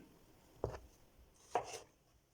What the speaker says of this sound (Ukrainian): Нарізаю помідори.